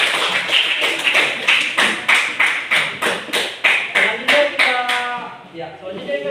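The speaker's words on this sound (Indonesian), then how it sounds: "Beri aplaus untuk kelompok." A classroom group of students claps for a presenting group: an even, rhythmic run of about a dozen sharp claps at a steady beat, close and loud, fading out as a few voices and a brief tone follow at the end.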